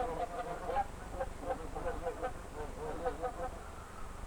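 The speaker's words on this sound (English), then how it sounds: "you may see a flock of wild geese flying south for the winter" A flock of wild geese flying south for winter honks in a steady chorus of overlapping calls, moderately distant, over a constant hiss with a narrating voice faintly present.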